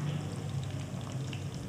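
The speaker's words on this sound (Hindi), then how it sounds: "1 कप मैंने कुकिंग ऑयल डाला है, प्याज डाल दिया, हल्का से इसको सौते कर लूँगी" Onions sautéing in a cup of hot cooking oil in a pan, a soft, even sizzle heard close up and fairly quiet, with no talking.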